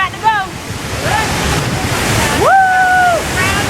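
La Fortuna waterfall pours in a loud, steady roar of falling water with wind noise on the microphone, and voices call out briefly over the constant rush.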